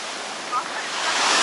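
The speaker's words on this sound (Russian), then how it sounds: "Вон какие тут волны, шторм." Stormy sea surf at Gumista beach in Abkhazia roars as a steady, close wash of breaking waves with no talk.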